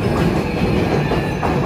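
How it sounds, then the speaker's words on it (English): Yamanote line trains in Tokyo rumble past close by, a loud continuous rolling roar with rhythmic wheel clatter on the rails. "Here are the Yamanote line trains."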